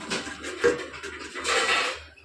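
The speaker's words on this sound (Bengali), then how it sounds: "এবার একটু ঢেকে দেবো, কারণ এটা তো হয়েই এসছে, জাস্ট মাংসগুলো যাতে সেদ্ধ হয় একটু ঢেকে দেবো" A metal lid set onto a pan of cooking chicken, giving a few close clinks and scrapes of metal on metal over a low stove hum, with no one talking.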